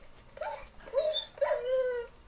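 A Minecraft dog whimpers and yelps in three short, high-pitched whines as it dies, close and clear over a faint background.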